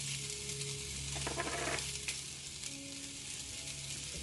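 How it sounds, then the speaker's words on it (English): Vegetables sweating in a hot pan ahead of a honey barbecue sauce, giving a soft, steady sizzle with a brief stir of rustling in the middle, fairly quiet and unaccompanied. "we don't want to saute these too much because we're going to finish them off in the barbecue sauce"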